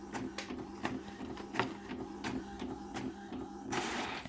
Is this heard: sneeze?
no